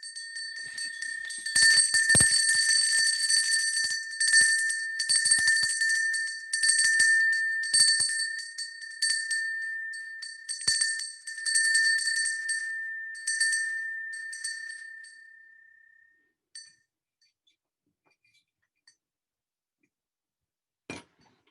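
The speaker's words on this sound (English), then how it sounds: "As we follow the sound of the bell into silence, let us become centered and fully present in this place together." A bell rings during a Sunday remembrance service, with repeated bright metallic strikes and ringing tones that gradually thin out and decay into near silence, followed by one faint late tap.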